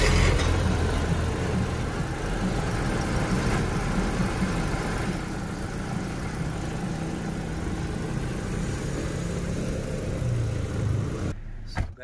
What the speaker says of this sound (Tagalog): ito yung makina ng Chery oh.